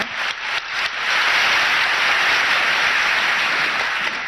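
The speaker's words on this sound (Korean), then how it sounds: "주님께 박수로 영광을 드리겠습니다." A church congregation breaks into loud sustained applause, a few scattered claps quickly building into a dense, even roar of clapping that fills the room.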